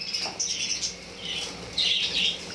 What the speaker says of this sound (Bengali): এগুলো সব আমার ঘরের পাখি, ককটেল, কুনুর।